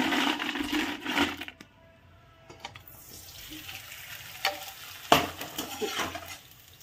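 Red chili papad frying in hot oil gives a faint, close sizzle that fades after the first second or two, followed by scattered soft crackles and light clinks.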